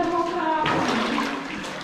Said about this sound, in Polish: słychać płynącą wodę dalej